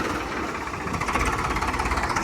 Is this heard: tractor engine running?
yes